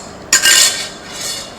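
A metal utensil clinks sharply once against a dish while marinade is stirred into peanuts for an Indonesian recipe, followed by a short scraping rattle and a fainter second touch, close and alone.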